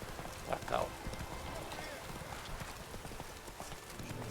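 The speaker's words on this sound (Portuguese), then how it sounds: "Run, Roach" Horse hooves clip-clopping at a run in the video game The Witcher 3, soft and fairly faint, with a couple of brighter thuds early, all beneath a speaking voice.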